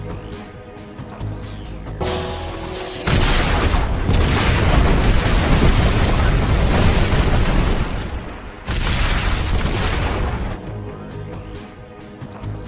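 Generators blowing up in the Ben 10 Omniverse video game, producing a loud, sustained rumbling blast of roaring explosions, with a short lull before a second heavy burst that fades out.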